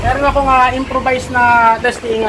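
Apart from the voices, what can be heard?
None of the usual background noises is heard.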